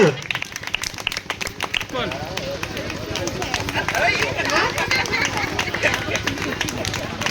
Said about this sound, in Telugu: క్లాప్స్ అండి క్లాప్స్